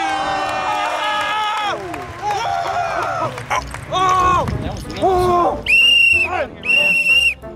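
A referee's whistle on an indoor soccer court, sounded in several sharp, loud blasts, the last two long and piercing, amid crowd noise, running footsteps and overlapping chatter.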